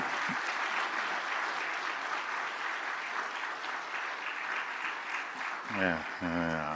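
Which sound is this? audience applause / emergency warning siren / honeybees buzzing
audience applause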